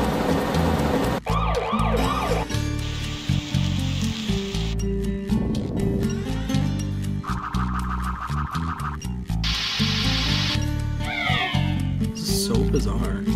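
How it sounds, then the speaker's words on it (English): Sound test from the Sonic Adventure video game playing Big the Cat's effects: a rapid series of synthetic meows, chirps and siren-like tones in abrupt segments, loud and close, with a voice talking over parts of it. "Oh my god, it's Big the Cat. Sound test."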